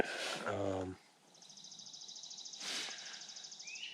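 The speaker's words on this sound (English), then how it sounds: "Love waking up to the birds chirping." Birds call in the morning at a tent campsite in Burlingame State Park, Rhode Island, a thin repeating high trill running steadily and fairly faint after a brief burst of voice at the start.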